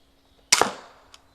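A Cobra crossbow pistol fires an arrow with a single sharp, close snap and a brief twang that fades quickly, followed by a faint small click.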